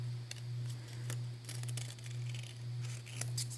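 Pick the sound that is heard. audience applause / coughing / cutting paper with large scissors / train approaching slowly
cutting paper with large scissors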